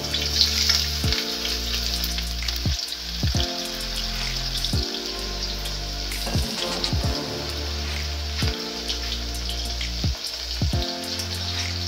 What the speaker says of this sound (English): heat up 3/4 cup of cooking oil in a large pot. And then we're gonna add in the chopped onions